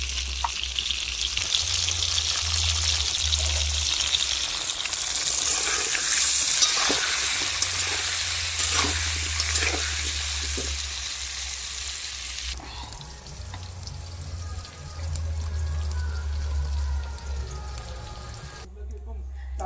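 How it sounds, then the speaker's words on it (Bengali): Potatoes frying with salt and turmeric at an outdoor village picnic, a steady loud sizzle with occasional stirring scrapes and clatters, continuous throughout. "লবণ আলুটাকে একটু লবণ আর হলুদ দিয়ে কষিয়ে নেবো"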